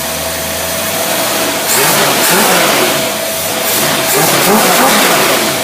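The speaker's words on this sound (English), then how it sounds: "this is a free rev" A car engine fitted with a Holley 390 cfm carburetor free-revs up close, rising twice into loud surging revs from a rough mid-pitched idle, with no talking.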